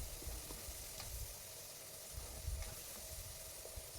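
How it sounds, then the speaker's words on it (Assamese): Masala spices sizzling and frying in hot oil with a splash of water added for a mutton curry, a steady close hiss with occasional stirring scrapes, no talking. "এই মছলাখিনি মই ভালকৈ ভাজি ল'ম"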